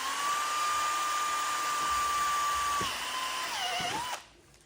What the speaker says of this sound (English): So, just going to screw in, drill in here.